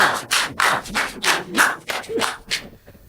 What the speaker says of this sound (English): I want the yes side over there to start clapping and show the no side that we are right